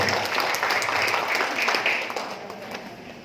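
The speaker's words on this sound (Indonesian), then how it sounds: "Aplaus dulu buat Alfro." Audience applauding at an indoor marketing-plan presentation, a dense even patter of many hands that holds steady and then tapers off toward the end.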